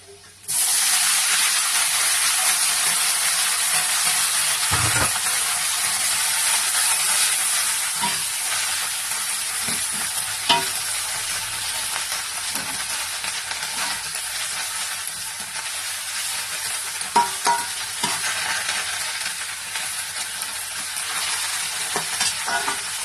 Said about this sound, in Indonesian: setelah coklat kita masukkan kangkungnya